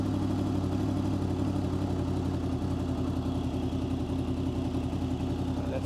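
A Honda VFR800 VTEC motorcycle engine idles steadily at a lowered speed, a close, even mechanical throb with a constant low hum and no change in revs.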